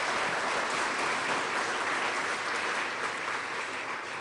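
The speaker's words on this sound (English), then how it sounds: "Another round of applause for Tom." Dense, even applause fills a room at a university athletics announcement. The clapping is continuous and holds at a steady level, with no speech over it.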